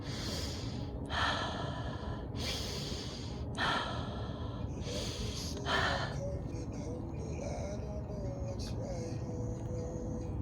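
Deep breathing during a guided breathwork session: a run of forceful breaths, each a sharp rushing hiss, repeating in a steady rhythm close to the mic, then tapering to quieter breathing with faint background sound.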